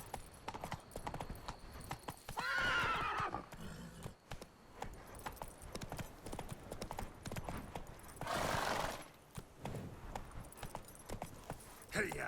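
Horse hooves clip-clop at a gallop in The Witcher 3: Blood and Wine, a steady rapid beat with occasional whinnies and a brief voiced urging, under continuous game ambience.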